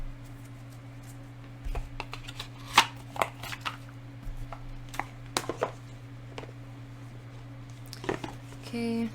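A tarot animal spirit card deck is shuffled by hand, giving soft papery riffles and taps in uneven bursts over a steady low background hum, close and fairly quiet.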